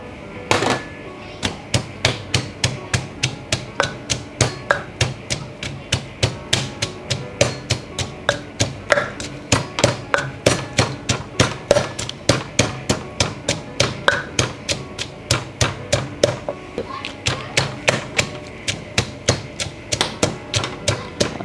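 Garlic and chili crushed in a mortar for a spicy Thai fruit salad: a steady run of sharp, close pounding thuds, roughly two strikes per second, continuing for the whole stretch without talk.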